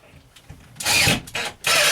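A power driver sinks a screw into a plywood cabinet inside a 2014 Chevy camper van, giving two loud whirring bursts after a quiet start.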